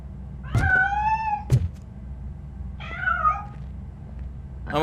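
A cat meows in the game Robocop: Rogue City: two clear, close meows in quick succession, a soft thump with each, then a third quieter meow after a pause and the start of another, set against low ambient hum.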